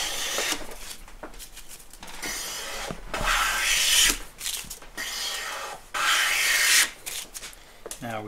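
A Woodriver low angle jack plane with a waxed sole shaves wood in repeated long strokes, each pass a loud, close rasping hiss separated by brief pauses, with no talking.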